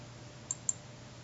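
Two quick, faint mouse clicks about a fifth of a second apart, a double-click in PartMaker CAM software during milling setup, over a low steady room hum.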